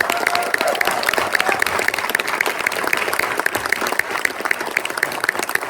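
Sustained clapping from a festival screening audience at TIFF greeting filmmaker Charles Burnett, a dense, steady wash of many hands filling the room without any break.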